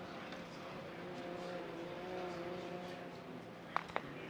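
An RB-engined Nissan S15 drift car at a Formula Drift pro competition, a continuous distant engine drone with faint tonal whine over crowd and track ambience, with two brief sharp pops near the end.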